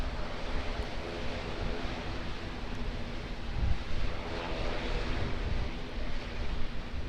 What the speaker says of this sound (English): Air New Zealand Airbus A320 arriving on 23 left